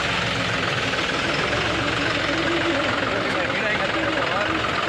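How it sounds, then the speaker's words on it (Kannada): A tractor engine runs steadily with a low, rumbling drone while driving along a rough dirt path past trees, loud and continuous throughout, with a voice speaking over it. "ಈಗ ಟ್ಯಾಕ್ಟ್ರ್ ಬಂದು ಹೊಂಟ ನೋಡ್ರಿ."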